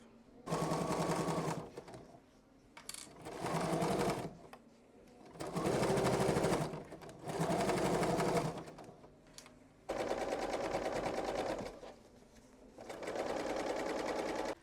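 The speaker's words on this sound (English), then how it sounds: "I'm gonna sew this together" A sewing machine stitching fabric pieces together for a garment, running in several steady rapid whirring bursts of one to two seconds separated by short pauses, loud and close.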